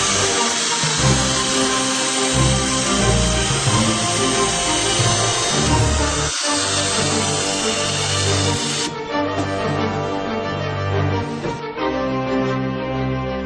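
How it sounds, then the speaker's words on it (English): A power drill fitted with a gutter attachment grinds and scrapes through pumpkin guts in a loud, steady, rough whir that cuts out briefly a few times before the motor tone shifts. "Simply insert the gutter into your drill, tighten, and make mincemeat of your pumpkin guts."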